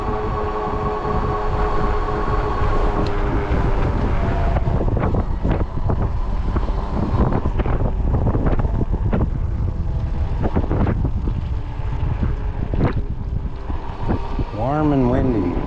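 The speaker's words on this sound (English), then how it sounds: "Oh, that wind." Warm wind buffets the microphone while riding a 20-inch folding fat tire e-bike on a hot 80°F day, a constant loud roar with rattles and bumps throughout.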